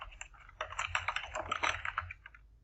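Quick burst of typing on a computer keyboard while writing code in a notebook, a close flurry of key clicks lasting about two seconds, with no talk.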